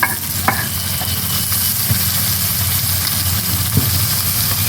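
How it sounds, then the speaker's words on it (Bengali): Onions and tomatoes hit hot oil with fried whole spices like cardamom and black pepper, giving a steady loud sizzle while a utensil stirs and scrapes the pan with a few sharp knocks. "এইবার এই পেঁয়াজগুলো দেবো, টমেটো দেবো, দিয়ে একবারে কষাবো"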